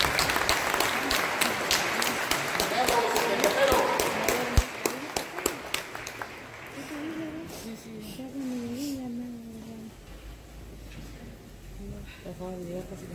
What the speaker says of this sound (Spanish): Y un aplauso fuerte a la danza también.